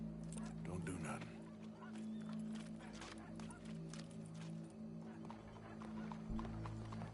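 Horse hooves clip-clop in Red Dead Redemption 2, a steady trotting rhythm under a low ambient hum and a brief whinny, with occasional background voices.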